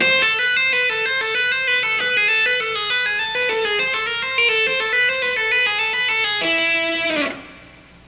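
A fast, bright run of repeating guitar notes played in a steady tapping pattern, clean and prominent, ending with a final note that quickly dies away.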